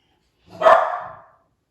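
Dogs in a home during a yoga session give a single brief bark, one rising and fading yelp standing alone in otherwise quiet surroundings.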